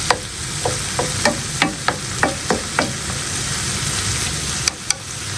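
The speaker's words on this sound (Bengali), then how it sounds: "এখন একটু কাঁচামরিচ দিয়ে দেবো একটু ফ্রাই ফ্রাই হবে" Onions and green chilies frying in a pan, a dense steady sizzle punctuated by a rapid series of about ten sharp spatula taps and scrapes, then two more near the end, close and loud with no talk.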